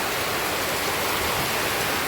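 Heavy rain and floodwater surrounding a chicken coop, a dense, loud, unbroken rush of falling and flowing water filling the whole clip.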